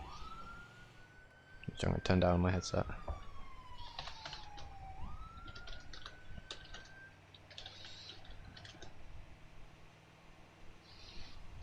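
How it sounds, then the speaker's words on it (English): An emergency vehicle siren wails with a rising and falling tone during a patrol in a video game, set against bursts of louder noise, keyboard clicks and someone talking. "it's going to be full lights and sirens"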